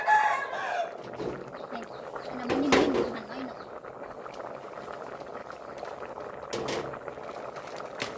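Purple sweet potato simmers in a pot, a steady soft bubbling throughout, with a rooster crowing in the distance at the start and faint background voices.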